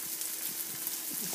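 Omelette cooking in a small pan, a soft steady sizzle and crackle with faint stirring scrapes, fairly quiet and continuous with no talking.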